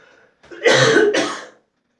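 A man coughs hard twice in quick succession at close range, each cough a loud rough burst with a brief throat-clearing rasp before it, then silence.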